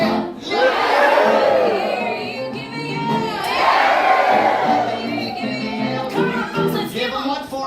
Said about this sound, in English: Let me hear you give me yell.